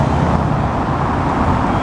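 Steady, dense street traffic near the Champs-Elysees in Paris, where a policeman directs cars; a continuous close roar of passing engines and tires with no gaps.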